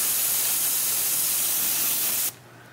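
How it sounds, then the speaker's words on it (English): Steady, loud airbrush hiss sprays weathering paint onto a model locomotive's trucks continuously for about two seconds, then cuts off abruptly, leaving faint quiet background. "We'll spray her away here."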